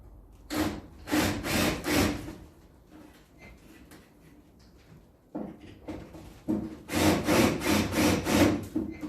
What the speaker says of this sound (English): Using a bigger drill bit just to take the heads off.